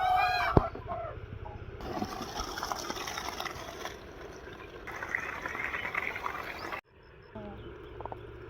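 Chickens cluck briefly in a rural Bangladeshi village, with short calls near the start and again near the end amid steady outdoor noise and faint voices.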